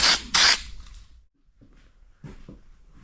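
Two short, loud hissing bursts from a spray paint can on a dented two-stroke exhaust pipe of a 1983 Yamaha IT 175 at the start, followed by quieter handling noises and faint clicks.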